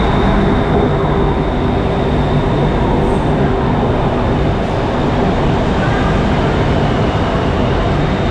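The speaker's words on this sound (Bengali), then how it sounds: "আমাদের সেকেন্ড ট্রেনটা চলে এসছে" A BTS Skytrain pulls into a Bangkok station with a loud, continuous rumble and hum that holds steady throughout, along with a faint high tone.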